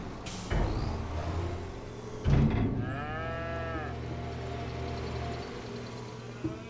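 Cattle in the Farming Simulator 25 video game let out a single long, loud moo that swells and falls, set between a couple of dull thumps over low farm ambience.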